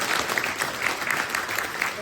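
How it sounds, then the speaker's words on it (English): An audience claps for a men's harmony chorus, the sound a steady, moderate patter of many hands at a middle distance, with voices murmuring underneath. "You can give them a clap if you like"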